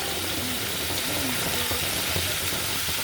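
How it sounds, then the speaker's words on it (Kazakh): Chicken meat frying in hot oil in a pan, a steady broadband sizzle that stays loud and even throughout, with faint low voice-like tones underneath. "Осындай тауық етімізді қуырып аламыз."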